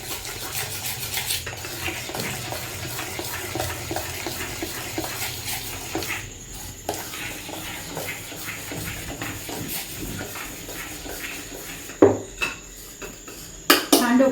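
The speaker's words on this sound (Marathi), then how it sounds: "सोडं टाकते आता सोडं छान हलवून घेते" A spoon stirs dhokla batter made from leftover rice after soda is added, steady scraping and swirling against a bowl, with louder clanks of utensils near the end.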